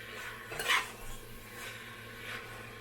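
Chicken being stirred in a cooking pot, a faint scrape and clink of the utensil against the pot, one sharper stroke and then a few softer ones, close by with no talking.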